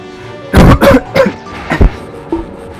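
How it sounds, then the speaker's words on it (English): A person coughs in a run of about six harsh, close bursts, the first few strong and clustered, then a couple of sharp double coughs and a final smaller one, with quiet gaps between. "So I've been coughing a lot lately."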